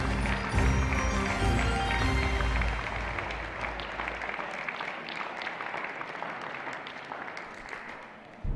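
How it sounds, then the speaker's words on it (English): A crowd at an indoor archery World Series final gives a sustained round of applause for the athletes on the podium, a broad clapping roar over music at first, then a steadier, slightly fading patter of many hands. "please give a warm round of applause to our athletes"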